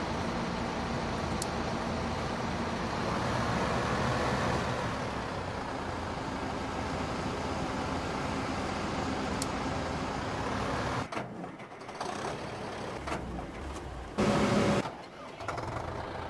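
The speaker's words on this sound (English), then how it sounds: "Tractor's stuck." Farming Simulator 2015 tractor engine droning steadily while the tractor is stuck, a continuous mechanical hum at moderate level, then breaking into choppy, uneven bursts near the end.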